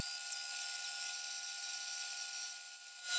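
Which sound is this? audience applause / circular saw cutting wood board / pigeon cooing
circular saw cutting wood board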